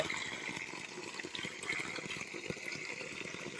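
Water runs steadily from a household tap in a village home, a weak, uneven flow with a continuous hissing wash and no voices, fairly close and moderately quiet.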